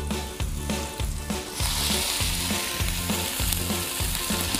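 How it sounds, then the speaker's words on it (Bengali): Boiled pasta hits a pan of fried onion, chili and tomato and sets off a loud, steady sizzle. Regular scraping strokes of stirring run through it, close up and without talking. "এখন আমি এখানে দিয়ে দেব বয়েল করে রাখা পাস্তা।"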